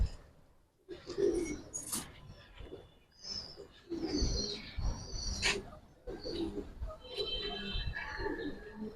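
Soft cooing and flutters of Giribaz pigeons mix with nearby voices and handling noises, the birds close and fairly quiet beneath the talk.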